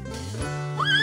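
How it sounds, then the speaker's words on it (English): A short cartoon horse whinny rises and wavers in pitch near the end, preceded by a low snort-like sound, close and fairly loud. "Here the horses."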